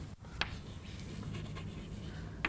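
Chalk or a marker scratches across a classroom board during a biology lesson in steady, continuous strokes, close and fairly quiet, with a couple of sharp taps as it lifts and touches down.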